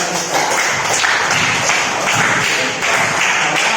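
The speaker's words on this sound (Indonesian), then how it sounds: "Tepuk tangan untuk Ananda." A classroom of pupils claps for a classmate at an Indonesian school lesson, a dense, steady patter of many hands throughout with no pause.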